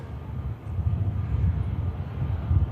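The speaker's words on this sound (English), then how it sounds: "I've got the Turkish coming on to finals now" Turkish Airlines airliner on final approach into Manchester Airport, a steady low engine roar and rumble building slightly as it nears, with some wind buffeting and no voices.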